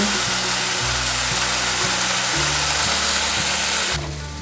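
Potatoes pan-frying in a skillet, browning toward golden, give off a continuous close sizzle that runs the whole time beneath steady background music.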